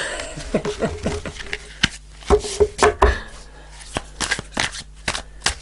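Slippery tarot cards are shuffled by hand in quick riffling bursts with short pauses between them, close and clear, with a voice faintly present in the background.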